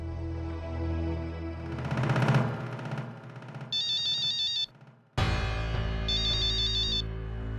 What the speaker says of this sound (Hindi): मानव बाबा का फोन